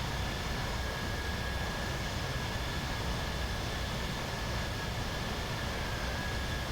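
A steady, even roar of an aircraft cabin in flight over the Galapagos, with a constant engine drone and a faint high whine and no other sounds.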